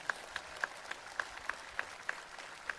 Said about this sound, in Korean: 우리 하나님께 감사의 박수 한번 해봅시다